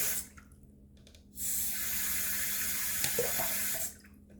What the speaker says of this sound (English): Let's put a little water on this because I want to get that clean.